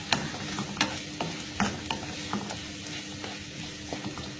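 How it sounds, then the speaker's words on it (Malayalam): Ginger, garlic and green chillies sauté in a pan for chicken kurma, with a soft continuous sizzle broken by regular scraping stirs of a utensil against the pan, close and without talk. "ഇഞ്ചി വെളുത്തുള്ളി ഇട്ട് കൊടുക്കാം നാല് പച്ചമുളകുണ്ട് അത് ഇട്ട് കൊടുക്കാം നന്നായിട്ട് വഴച്ചെടുക്കാം"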